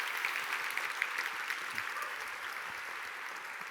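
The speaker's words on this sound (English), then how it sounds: "And if you can keep that applause going" Conference audience applauding sponsors in a large hall, steady broadband clapping that holds evenly throughout with no voices over it.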